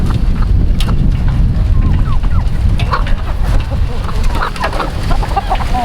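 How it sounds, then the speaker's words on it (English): A small bantam rooster clucking outdoors among a farm flock, giving brief scattered clucks over steady wind buffeting and low rumble on the microphone, with a voice faintly in the background. "There's one little banny roosters"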